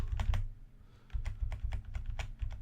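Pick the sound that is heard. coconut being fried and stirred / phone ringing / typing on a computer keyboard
typing on a computer keyboard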